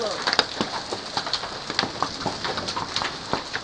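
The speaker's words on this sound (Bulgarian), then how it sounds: "това е най-голямата градушка." Huge hailstones, some as large as a hand, fall outdoors in Elhovo, Bulgaria, cracking a window; a dense, steady patter and clatter of hits continues throughout with a few sharper impacts.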